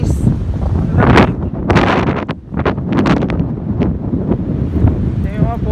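Strong night wind gusting through trees, a loud, steady rush with rustling bursts and buffeting on the microphone, continuous throughout.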